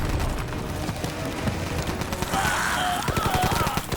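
Gunfire in a film, rapid rattling shots under a busy action soundtrack with shouting voices, fairly loud and continuous throughout.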